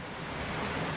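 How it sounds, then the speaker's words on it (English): Steady rain pours during a thunderstorm at night, a dense, even hiss of drops with no breaks, loud and close, without voices. "Still raining."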